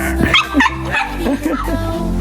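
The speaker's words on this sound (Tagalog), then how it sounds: "aso po na pango" A flat-nosed dog gives a run of short, yappy barks and whimpering yips at close range, uneven in rhythm and somewhat strained, without clear speech over it.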